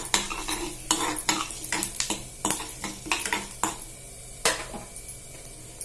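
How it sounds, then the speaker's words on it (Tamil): Tamarind fries in oil with cumin for a green chilli chutney while a spoon stirs it, making close clinks and scrapes on the pan over a soft sizzle. "இது எண்ணெயிலே இந்த புளி வதங்கணும்."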